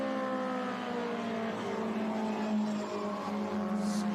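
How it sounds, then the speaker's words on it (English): A vintage race car at Laguna Seca corners during the Monterey Reunion with a sustained engine drone and tyre squeal, heard from a distance, steady and moderately loud with no talk. "Squealing through the corner"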